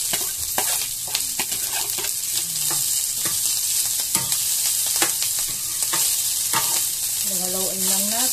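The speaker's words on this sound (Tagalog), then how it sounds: "Haluin lang natin." Cooked rice stirred while frying in a pan for garlic fried rice, a constant loud sizzle with repeated scraping strokes of the spatula close up and no talk.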